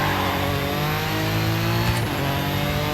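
A Toyota rally car on a rally stage, its engine fatigued and its tyres worn, drones loudly and continuously with a shifting rev pitch, heard from close by.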